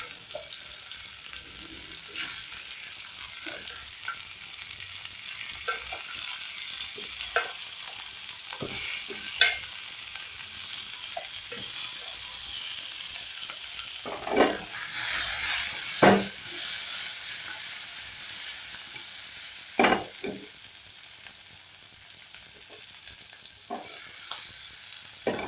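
Potatoes pan-roast alongside sausages in a hot pan, a low, steady sizzle with repeated scraping and clattering as a utensil stirs and turns them, some strokes louder than others.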